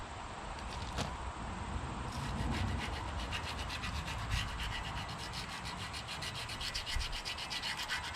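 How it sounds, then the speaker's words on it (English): Continuous rough rubbing and scraping of wet sandpaper on metal, worked back and forth in quick repeated strokes, close up and steady, with no voices. "They call it wet sandpaper for wet sanding paint on automotive vehicles when necessary."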